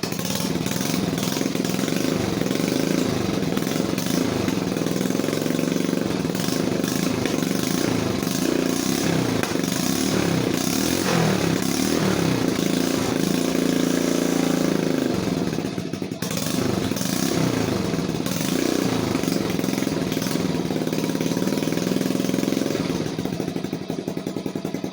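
A 1980 Honda Mini Trail 70 motorcycle engine runs steadily at idle without choke, with a continuous close puttering drone and light mechanical clatter.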